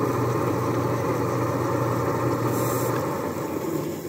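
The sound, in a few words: poultry defeathering plucker machine spinning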